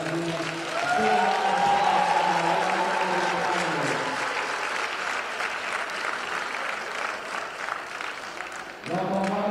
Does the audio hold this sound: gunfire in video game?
no